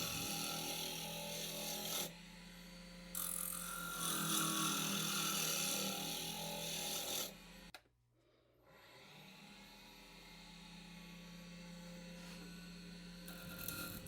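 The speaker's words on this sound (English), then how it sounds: "now we're just basically turning that cedar down to round" Cedar wood turned down to round on a lathe: a steady motor hum under a continuous scraping, rasping cut that stops briefly mid-way, then resumes more softly before returning to full strength.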